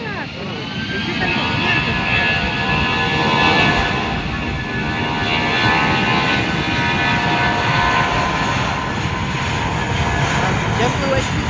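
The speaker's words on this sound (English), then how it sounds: "JetBlue A320 taking off." A JetBlue Airbus A320 jet takes off, producing a powerful, steady engine roar with a whining tonal edge that holds loud throughout, while a person talks over the noise.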